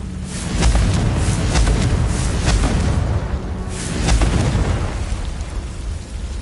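Explosions from the Confringo spell in the video game Hogwarts Legacy, a run of loud booming blasts and crackling bursts that swell and fade across the scene.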